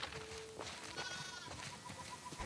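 Sheep bleat in the PS4 game The Last of Us Part II, a few short, fairly quiet bleats over soft in-game background sound.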